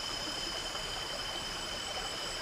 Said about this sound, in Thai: ฟังเสียงน้ำไหล